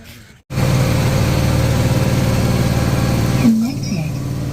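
A motorboat engine idles steadily and loudly on the Yamuna River, starting abruptly after a brief quiet moment, with a short vocal sound near the end.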